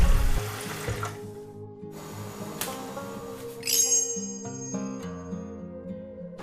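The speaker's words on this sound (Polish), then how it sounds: "uzupełniamy wodą do poziomu, który zaraz zademonstruję" Water running from a tap into the water tank of a Saeco GranAroma espresso machine, a steady close splashing fill with rising hollow tone and a brief clink partway through, no talk.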